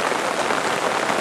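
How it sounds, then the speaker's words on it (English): Heavy rain in Thailand falling steadily as a dense, even hiss of drops on surfaces, close and continuous with no voices. "Raining heavily now, so we've calling it a day, I think."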